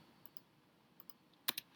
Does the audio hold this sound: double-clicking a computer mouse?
yes